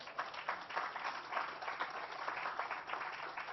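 A crowd at a peace and security conference's closing session gives a dense, continuous round of applause for students and volunteers, an even wash of many hands heard from a distance and muffled.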